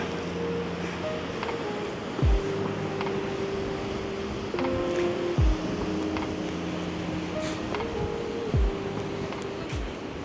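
Storm surf rolls onto the shore at Arkadia beach in Odesa in strong wind, a steady broad wash with a few heavier breaking waves thumping in at intervals.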